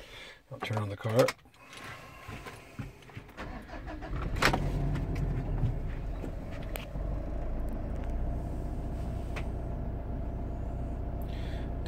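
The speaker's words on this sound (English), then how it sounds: "I'll turn on the car." A Mitsubishi Montero engine turns over with a brief starter burst, then settles into a steady, close idle rumble that holds through the rest of the clip, with a few clicks and knocks on top.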